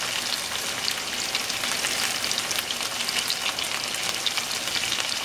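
Onions and green peppers fry steadily in a pan with salt and Cajun seasoning for smothered steak, giving a continuous close, even sizzle with no talking.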